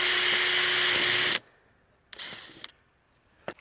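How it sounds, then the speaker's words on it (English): Power drill pre-drilling holes while upgrading a camper van's sliding door: a loud, steady whine for over a second that stops abruptly, followed by a couple of faint handling clatters and a brief knock. "just pre-drilling the holes"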